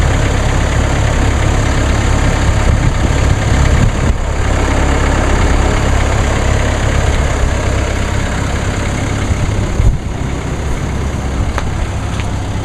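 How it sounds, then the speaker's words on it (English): A Mercedes-Benz diesel engine fast idles on a cold 23°F morning, a loud, steady low rumble that holds without a break. "see, the engine's actually in fast idle."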